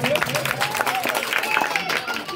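Applause from an audience at an SR Education celebration where guests receive flower-patterned gamosas, a dense steady patter of clapping running under voices throughout.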